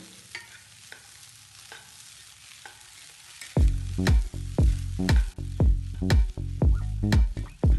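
Cooked green peas are stirred into egg masala in a pan. A quiet, faintly sizzling start gives way to loud, rhythmic scraping and clanking of a spoon against the pan.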